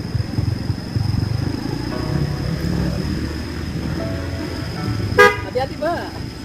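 A car passes on a village road in Indonesia amid outdoor chatter and engine noise, then gives a short, loud horn toot near the end, while people talk nearby.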